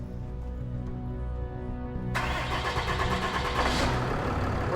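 A tow truck's engine cranks and catches at about two seconds, then settles into a steady, loud mid-pitched running rumble close by, with no talk over it.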